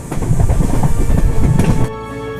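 A passenger train in Ella, Sri Lanka rumbles and clatters loudly up close, heard from the carriage, before the noise drops abruptly to a quieter hum near the end.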